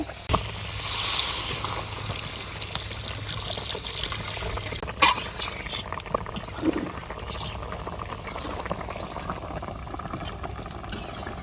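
Water poured into a pot of country shrimp curry with tomato as it cooks, a soft trickle and bubbling simmer with a couple of clanks near the start, fairly quiet and steady, no talking.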